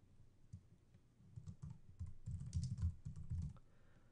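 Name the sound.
typing on a computer keyboard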